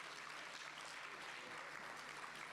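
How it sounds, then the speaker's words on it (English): A big round of applause fills a conference hall at an e-learning summit, steady and dense, heard from a distance with no voices over it. "Can you please give him another big round of applause?"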